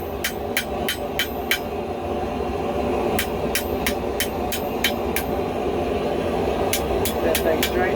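A hammer pounds a cable Damascus billet in quick, evenly spaced sharp ringing strikes, falling in three separate runs over a steady roaring background hiss.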